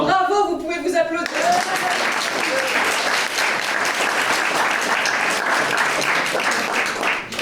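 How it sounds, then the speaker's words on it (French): An improv theatre audience bursts into loud, dense applause after a brief moment of voices at the start, and the clapping stays continuous and full-bodied to the end. "vous pouvez vous applaudir"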